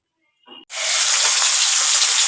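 Fish coated in salt and turmeric drops into hot mustard oil in a wok, a brief clatter and then a sudden loud, steady sizzle of frying that continues close to the listener without any voices.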